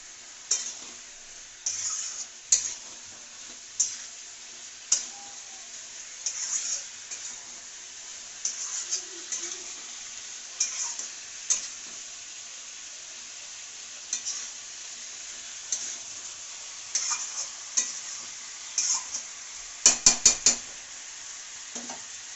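Potatoes stir-fry in a pan with a steady sizzle underneath and regular scraping, clinking strokes of a spatula, plus a brief flurry of rapid metal taps near the end.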